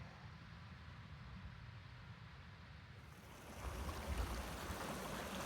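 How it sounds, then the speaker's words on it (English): A creek flowing beside a Sierra trail, a soft, continuous rush of running water that swells louder in the last couple of seconds, with no voices. "Such lovely creeks everywhere."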